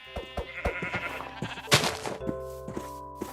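Repeated sheep bleats in the video game Vampire Survivors, short electronic-sounding calls in quick succession with a louder burst midway, no talking.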